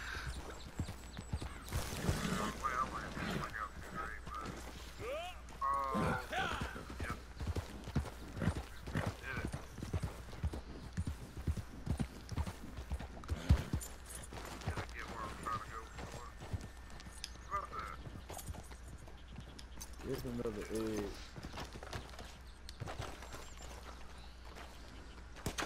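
Hooves clip-clop in a steady walking rhythm in the video game Red Dead Redemption 2, close and crisp, while people talk over them and a horse whinnies briefly.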